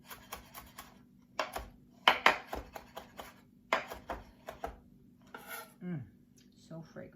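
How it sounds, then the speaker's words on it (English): A knife chops fresh garden dill on a board, giving a series of sharp, close taps and knocks in an uneven rhythm, with a few clinks and scrapes from utensils. "And I am going to chop this up."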